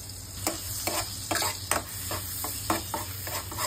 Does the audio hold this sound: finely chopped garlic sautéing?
yes